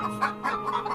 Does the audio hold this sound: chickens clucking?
yes